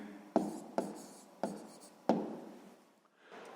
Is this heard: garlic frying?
no